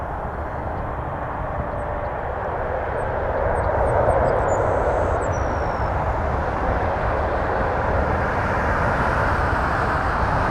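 Fixed-wing airliner landing at Toronto Pearson airport, a steady broadband jet engine roar that swells slightly and holds loud throughout, with no voices.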